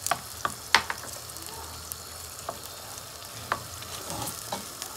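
Diced meat, first boiled until its water cooked off, now frying in a little vegetable oil for tas kebabı, with a steady soft sizzle under occasional scraping and clinking of a spoon stirring the pan, close and with no talk.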